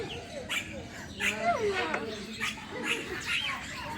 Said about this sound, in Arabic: ايش رايك يا زيزو في هذه العصافير